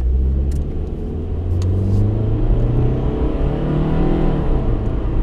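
A Nissan Altima GXE engine with variable valve timing accelerates steadily, its low rumble rising in pitch over several seconds, loud and close with no talking.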